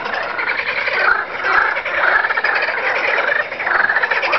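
A loud chorus of frogs hollering nonstop, overlapping rasping calls that swell and dip, with a few faint clicks and no speech.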